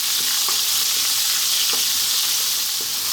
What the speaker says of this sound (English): Now I'm going to drop in my onion. I'm going to cook it just for 2 minutes.